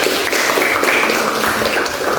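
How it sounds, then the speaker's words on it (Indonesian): Applause for a questioner in a classroom session, a dense burst of clapping from a group of people, steady and fairly loud throughout. "kita berikan tepuk tangan dulu buat yang bertanya"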